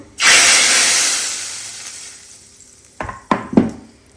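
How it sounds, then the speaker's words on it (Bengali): Loud sudden hiss as panch phoron five-spice tempering hits hot dal, the sizzle fading over a couple of seconds, followed by a few clinks of a utensil against the pot. "এখানে একটা পাঁচ ফোড়নের জাস্ট শুধু পাঁচ ফোড়নের বাগারটা দিব"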